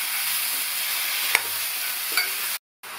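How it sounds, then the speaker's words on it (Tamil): Pumpkin pieces sautéing in a pan for Tamil kootu, a steady hiss of frying with a couple of faint stirring scrapes, then a brief cut to silence before the sizzle returns. "பூசணிக்காயை சேர்த்துட்டு இதை நல்லா இந்த மாதிரி 1 நிமிஷம் போல் வதக்கி விட்டுக்கணும்"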